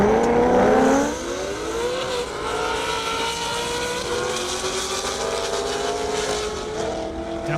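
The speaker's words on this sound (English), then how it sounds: "Andrew in the Corvette Z06." Corvette Z06 racing down an airstrip at a half-mile drag event: a loud, sustained high-revving engine roar with a falling pitch sweep as the car passes, continuing as a steady drone.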